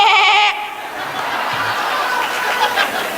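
A man imitates a goat's bleat with his voice on stage at a mushaira poetry gathering in Malegaon, a short nasal cry that gives way to a steady roar of crowd noise and laughter.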